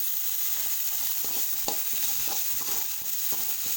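Potatoes frying in oil with cumin and curry leaves give a steady, close sizzle, broken by several soft scrapes of stirring and no voices.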